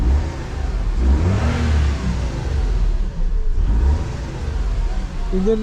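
A Suzuki Khyber being converted to a 660cc automatic idles with its engine running, a steady close mid-pitched hum and rumble as someone talks over it.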